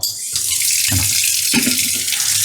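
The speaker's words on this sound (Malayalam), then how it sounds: "ഇതിൽ വെള്ളം വരണമെങ്കിൽ നമ്മൾ ഈ സ്വിച്ചിനാക്കി കൊടുക്കണം" Water gushes loudly and steadily from a pull-out kitchen sink faucet with piano-key switches, the flow shifting in tone a couple of times as the spray changes, close up with no talking.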